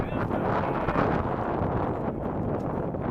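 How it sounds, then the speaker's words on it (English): Gusty wind buffets the microphone at an outdoor baseball field during a school game, a steady broadband roar with slight surges and no clear voices. "it's pretty windy out"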